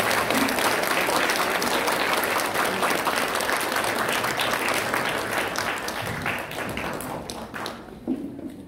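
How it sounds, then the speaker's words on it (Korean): Sustained applause fills a church during a retirement and ordination ceremony, a dense, steady clatter of many hands that holds loud for several seconds before thinning out toward the end. "예, 큰 박수로."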